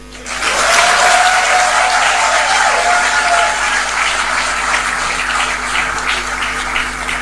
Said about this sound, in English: Will the guys applaud them?